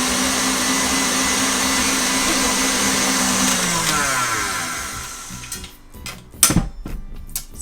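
An electric mixer whirs loudly and steadily as it beats buttercream with scraped vanilla pod seeds, then winds down and stops, followed by a few clattering knocks of a bowl and utensils.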